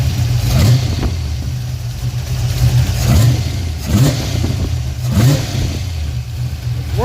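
A car engine, running for the first time in 26 years after a throttle cable adjustment, idles roughly and loudly up close, with several short rev swells rising and falling over a continuous rumble.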